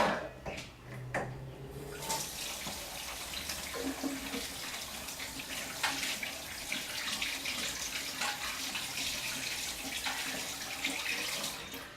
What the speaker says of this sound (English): I'll give my hands a bit of a wash.